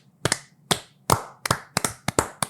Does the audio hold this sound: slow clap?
yes